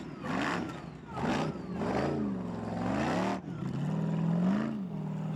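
A Formula Offroad car, a new build named Shadow with full rear-wheel steering, revs hard at an Icelandic offroad race in Akureyri, its engine rising and falling in pitch, loud and sustained.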